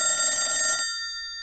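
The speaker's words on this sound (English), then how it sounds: "It was very peaceful and relaxing up until the telephone rang." A telephone bell rings once in a quiet library, a bright metallic trill lasting under a second, and its tone rings on afterward and slowly fades.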